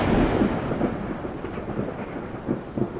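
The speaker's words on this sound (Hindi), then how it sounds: "जब आसमान तेज बिजली की रोशनी से चौंक रहा था और ऐसा लगता था जैसे बारिश पिछले तमाम बारिशों का रिकॉर्ड तोड़ देगी" A thunderstorm rumbles under heavy rain, with deep rolling thunder and a steady downpour, loudest at the start and then easing into continuing rain.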